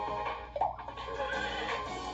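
A horse whinnies in the video game Miitopia, a brief, close neigh rising and wavering through about two seconds over a soft, steady game background.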